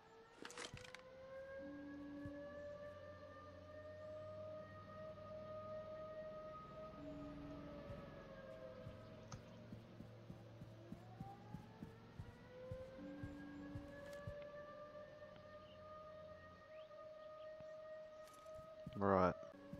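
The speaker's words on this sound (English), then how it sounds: "those sirens, those are to indicate the gas" A wailing gas warning siren in the Roblox game Blacklands rises and falls slowly in long sweeps, faint and steady, with low tones and a few sharp clicks underneath.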